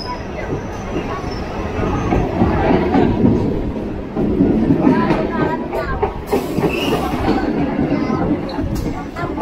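Suburban local train running on the Sealdah to Hasnabad line in West Bengal, heard from inside a carriage as a steady rumble and rattle with a brief brighter squeal, while people talk over it.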